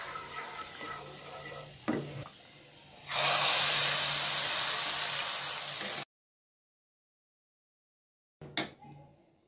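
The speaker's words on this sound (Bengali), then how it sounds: "রসুন মরিচটা আমার প্রায় ভাজা হয়ে গেছে, এখন হালিমের মধ্যে দিয়া দেব।" Fried garlic and chili tipped into a pot of haleem give a loud, steady sizzle of about three seconds that cuts off sharply, preceded by softer frying hiss and a few clinks and followed by quiet stirring.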